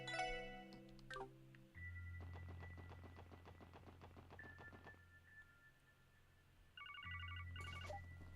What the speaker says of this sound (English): we'll receive a phone call since we talked to them